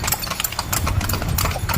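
Hooves of a large horse at Luneta Park clip-clop in a steady, quick rhythm, close and fairly loud, over a low background rumble and a faint hint of voices.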